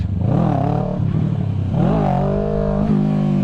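A Kawasaki Ninja 650 motorcycle engine revs hard in first gear, close and loud, rising in pitch twice with a brief dip between as the throttle is blipped and held.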